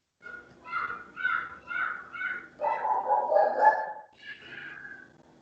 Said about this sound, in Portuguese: Minha cachorra.